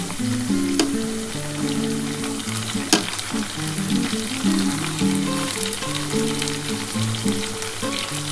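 Tomato goes into a pan of frying onions and potatoes for a spicy kachki fish dish, producing a loud, constant sizzle with sharp stirring clicks near the start and around three seconds, and no speech.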